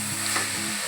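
Dal with turmeric and salt stirred in a hot pan, a loud close sizzle with a steady scraping stir throughout the short moment.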